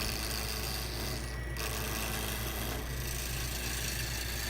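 Carbide turning tools cut a duck call barrel on a wood lathe, giving a steady, close rasping scrape over a constant motor hum, with a couple of short dips in the cutting noise.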